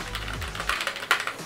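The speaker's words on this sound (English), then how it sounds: "when you guys are typing on here, it is pretty loud." Rapid typing on an NPET K10 wired RGB mechanical gaming keyboard, with a quick run of loud, sharp clacky keystrokes close up and no voices.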